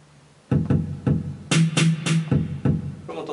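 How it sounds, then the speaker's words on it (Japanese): A synth pad voice in GarageBand, played from a Line 6 Mobile Keys 25 controller, sounds a series of close, clear chords in a steady rhythm, each with a distinct attack and a brief sustain. "例えば、パッドの音とかですね、"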